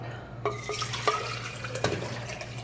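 Hot water heated in a microwave is poured into a cup over tea leaves, a steady close trickle and splash broken by a few small clinks and drips, over a faint low hum.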